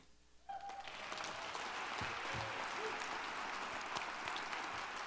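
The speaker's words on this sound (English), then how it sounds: "And now one more round of applause for the 2014 honorees." Applause from the ceremony audience honoring the 2014 arts award recipients, a dense sustained wash of clapping that starts abruptly and carries on steadily to the end.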